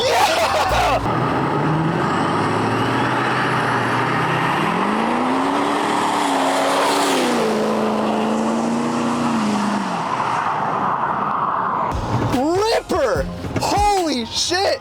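A modified diesel truck launches hard from 0 to 60, engine roaring loudly and rising in pitch through the gears with tire squeal, then cutting off as people shout excitedly near the end.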